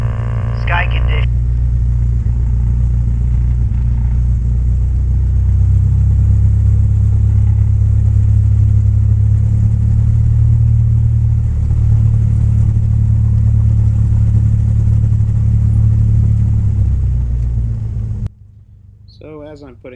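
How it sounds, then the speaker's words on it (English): A small airplane engine with a slight burble drones loud and close in a steady low rumble, its pitch holding nearly constant before cutting off abruptly near the end, followed by faint noise. "you can hear a little burble in the engine"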